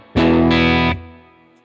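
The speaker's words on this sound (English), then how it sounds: "this is my always on reverb sound" A single guitar chord rings through an HX Stomp effects unit set to an always-on reverb, struck loudly, held under a second, then tailing off in a smooth fading wash.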